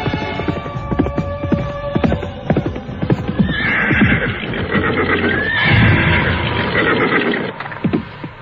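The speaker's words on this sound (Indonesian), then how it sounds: "Serentak kuda itu pun berhenti, ringkiknya membelah sepi malam." Horse hooves clip-clop and then a loud, shrill neigh rings out as the animal is reined to a halt in a radio drama, followed by snorting and a few more hoof steps, close and prominent.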